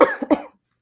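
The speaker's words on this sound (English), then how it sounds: "I have this cough from all my travels" Two quick, harsh coughs from a nearby person, the second slightly louder, followed by silence; a traveller's lingering cough during a live talk show recording.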